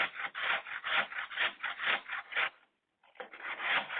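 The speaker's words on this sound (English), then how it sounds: "you need half an apple, cooking apple probably, peeled and cold, and you need to grate it" A peeled, cold cooking apple rubbed against a grater in a run of about ten quick, rhythmic rasping strokes, close and fairly loud, pausing briefly before scraping resumes, with no talking.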